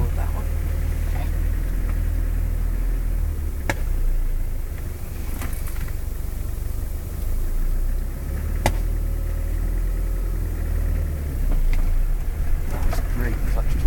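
A 4x4 vehicle pulls away on a bit of throttle and shifts into second gear, its engine a steady, loud low rumble throughout with a few sharp knocks, while an instructor talks over it.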